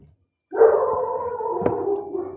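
A dog in the background lets out a drawn-out howling bark, a sustained moaning call after a brief silence, moderately loud with a short sharp yip partway through.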